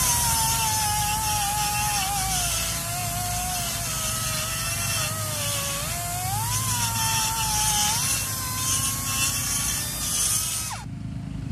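A power tool ports a Holley Strip Dominator intake manifold for a Ford 351 Cleveland, a close, loud, steady high whine that shifts pitch as it cuts the metal and then stops abruptly near the end.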